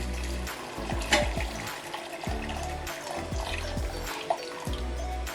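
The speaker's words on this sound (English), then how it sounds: "now that we've drained the beans, we're just going to add some more water into this." Water runs and splashes into a pot of drained beans being prepared for mashed beans, a steady close pouring gush with gurgling bubbles throughout and no talk.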